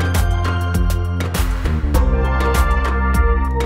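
A full music mix built from re-recorded stack stems in Logic Pro X plays back steadily, with a strong low-end pulse and regular bright percussive hits under sustained tonal layers.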